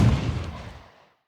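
Sniper gunshot transient and body layer from a Battlefield 2042 Hazard Zone sound redesign, without effects: a single heavy, booming shot that starts at full force and fades away within about a second.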